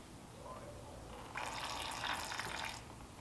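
Brake fluid streams steadily out of a bleeder while a Miata's brakes are bled after a master cylinder replacement. The close, fairly quiet liquid pour lasts about a second and a half between calmer stretches.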